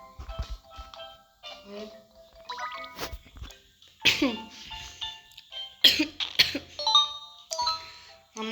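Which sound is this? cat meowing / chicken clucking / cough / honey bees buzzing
cough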